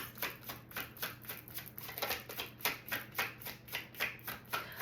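A deck of oracle cards is shuffled by hand in a quiet room, giving soft rhythmic riffling bursts about twice a second, close and gentle, with no talk.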